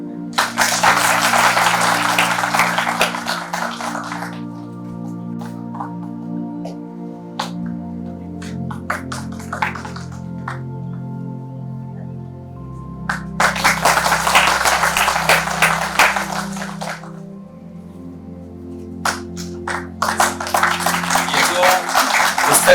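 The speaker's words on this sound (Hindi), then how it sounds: "बहुत बहुत तालियां।" Bursts of audience applause at a formal function in a hall, coming in separate waves of clapping between quieter stretches with a steady low hum underneath.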